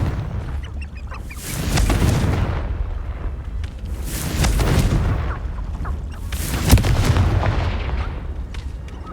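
In the Hogwarts Legacy video game, the Confringo blasting spell sets off three booming, rumbling explosions spaced a few seconds apart, loud and close, with no talking.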